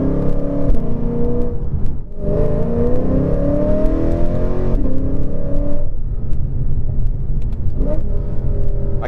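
A 2018 Lexus RC F accelerates hard through the gears, its loud engine roar rising in pitch with short dips at each shift, heard close from inside the car.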